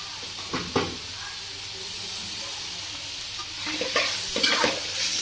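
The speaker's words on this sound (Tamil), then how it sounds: "அருமையான அவரைக்காய் போட்டு வதக்கிட்டோம்" Broad beans sizzle and hiss while being sautéed and stirred in a pan, a steady frying crackle with a few louder scraping stirs near the start and end.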